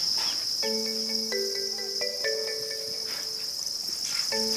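Crickets at a cricket farm trill in steady, overlapping chirps against a constant high insect drone, close and continuous with no talking.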